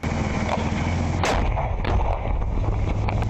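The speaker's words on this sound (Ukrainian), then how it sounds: "стріляє з ручного протитанкового гранатомету по ворожому панцернику" A heavy, booming blast from a hand-held anti-tank grenade launcher fired at an armored vehicle in combat erupts amid constant rumbling wind noise, followed by a few sharper distant reports.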